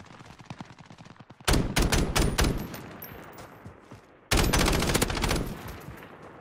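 Gunfire in the Call of Duty Warzone video game: a stream of light rapid shots, then two loud sustained bursts of heavy automatic fire from a minigun, close and dominant with no talking.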